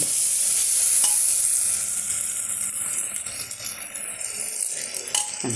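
A spoon stirs ground spice paste into sambar in a pot, a steady close scraping and sizzle with a brief high tone at the start.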